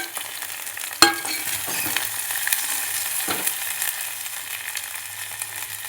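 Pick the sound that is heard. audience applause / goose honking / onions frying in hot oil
onions frying in hot oil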